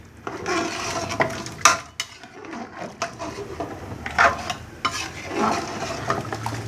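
Beef nihari gravy is stirred in a pot, with irregular scraping and clinking strokes of a spoon against the metal over a soft simmering sizzle, close up with no talking.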